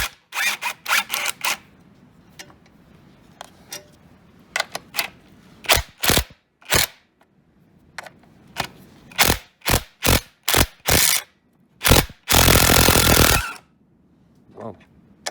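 Head bolts being removed from a Kohler Command 25 engine, heard as a series of sharp, close metallic clicks and short bursts, with one longer, loud rattling burst near the end and quiet gaps between.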